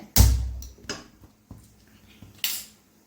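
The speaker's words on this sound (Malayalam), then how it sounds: "പാൻ അടുപ്പത്ത് വെച്ച് സ്റ്റൗ ഒന്ന് കത്തിക്കട്ടെ" A non-stick pan set down on a gas stove with a sharp metallic clank, followed by a few lighter knocks and clicks as the burner is lit, close and alone.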